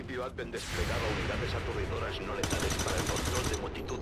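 Gunfire from the turn-based strategy game XCOM 2: War of the Chosen bursts out in loud, dense shots and crashes, with a fresh volley partway through, while a voice talks over it.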